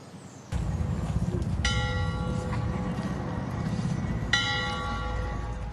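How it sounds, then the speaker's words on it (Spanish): Church bells ring out in Vanegas, Lebrija, tolling a farewell; two distinct bell strikes with long ringing overtones sound above a steady low outdoor rumble, with faint background voices. "El sonido de las campanas de la iglesia en Vanegas, Lebrija, anunció el adiós para Antonio Libreros"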